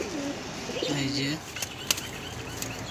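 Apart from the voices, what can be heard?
pigeons cooing and flapping wings in a cage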